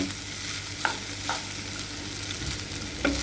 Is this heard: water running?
no